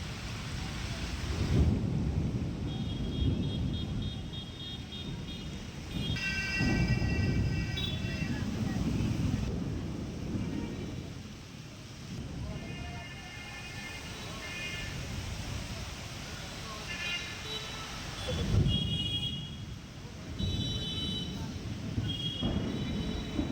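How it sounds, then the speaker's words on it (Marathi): Heavy rain pours steadily over Amravati city during flooding, with low rumbling swells, while brief high-pitched tones sound now and then in the background. "अमरावती शहरातील पावसाची सद्यस्थिती"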